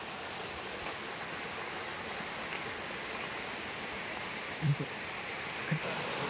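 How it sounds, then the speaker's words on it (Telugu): Steady broadband rush of a forest waterfall, continuous and fairly close, with a couple of brief low thumps near the end. "water fall"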